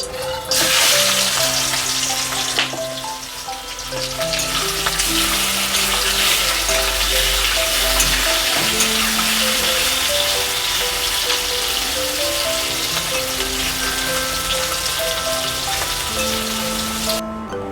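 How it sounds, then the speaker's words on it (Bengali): Prawns frying in hot oil in a pan, a loud continuous sizzle and crackle that holds steady throughout, with faint clinks of cookware and no talking. "চিংড়ি মাছগুলো ভেজে নেব।"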